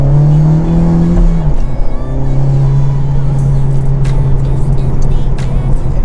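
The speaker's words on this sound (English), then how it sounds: "get a better sense hearing the engine rev up and down, how quickly the shifts are happening now" Inside a Honda Civic Type R with a Stage 3 shifter on the freeway, the engine drones loudly and steadily, with a brief drop in pitch as a quick gear shift goes through.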